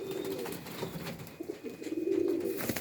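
Breeder pigeons coo softly in a loft, a male kept with several females, their low repeated calls rising and falling over a steady background hum with no one speaking.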